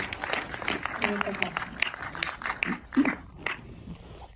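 An audience claps after a talk at an evening film program, a loose, scattered round of applause mixed with people speaking over it.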